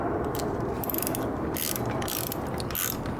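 A ratchet clicks rapidly and repeatedly while tightening the brake caliper bolts on a 2008 Yamaha FZ6 motorcycle, close and loud in quick bursts with short pauses.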